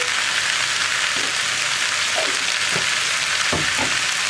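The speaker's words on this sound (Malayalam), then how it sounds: "അതിനുശേഷം ഒന്ന് ഇളക്കി മിക്സ് ചെയ്യുന്നുണ്ട്" Sweet corn fried rice seasoned with pepper powder sizzles loudly and steadily in a pan, with a few soft stirring scrapes and taps over the constant hiss and no voices.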